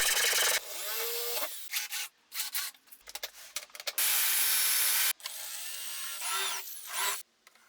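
Pop rivet tool setting rivets while building a trapezoidal bass case, loud bursts of pneumatic-sounding hiss and sharp snaps in quick succession, each setting cycle followed by a second one to eject the mandrel, close and without speech.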